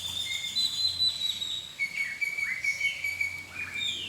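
Birds at the Sandos Caracol Eco Resort give clear, high, whistled calls and chirps, several overlapping phrases close by over a quiet background.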